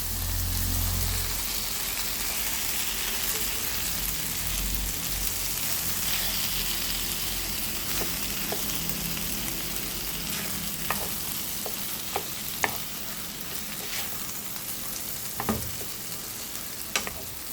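Corned beef sizzling and frying in a pan: a steady close crackle with occasional sharp pops and stirring scrapes, alone without talk.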